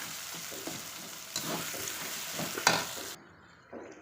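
Chicken fries with onion, ginger, garlic and green chili paste in a pan, giving a soft steady sizzle broken by a few stirring scrapes before it drops away near the end. No one speaks.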